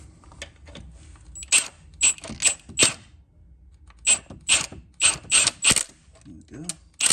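Spanner working a bolt loose on a Volvo 2.4 D5 diesel engine during crank and cam seal work: a series of sharp metallic ratcheting clicks and clacks in bursts, close and fairly loud, with short pauses between strokes and no talk.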